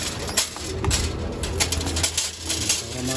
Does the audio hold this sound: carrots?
no